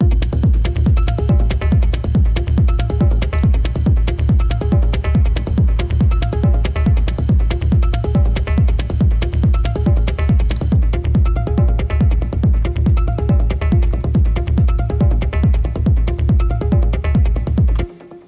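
A full electronic music track plays steadily with a driving, evenly pulsing beat and dense synth layers, loud and continuous, cutting off abruptly at the end.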